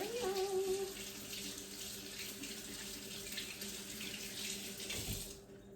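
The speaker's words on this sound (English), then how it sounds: "Because I touched that beef, I'm going to wash my hands again." A kitchen tap runs steadily while hands are washed under it after touching raw beef. The close, even flow of water continues for several seconds before being shut off at the end.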